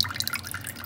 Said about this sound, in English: Pour water on it.